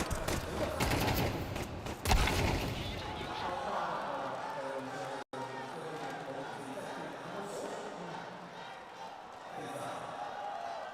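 Rapid gunfire bursts ring out during a professional Counter-Strike match on the Mirage map at a tournament quarterfinal, dense at first and then thinning, mixed with crowd noise while a commentator speaks throughout.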